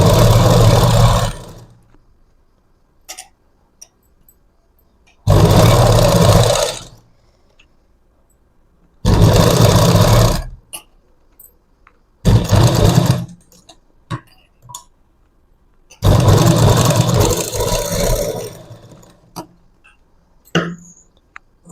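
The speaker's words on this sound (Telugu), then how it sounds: "నేను కుట్టు మాత్రమే వేస్తున్నాను" A sewing machine stitches a half collar onto fabric in bursts of loud, steady mechanical running, each lasting one to two seconds, with quiet pauses between them and no talk.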